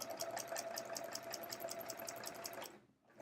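A sewing machine stitches a quilt block with metallic thread in a steady, fast, even whir that runs close and quiet. It stops abruptly just before the end.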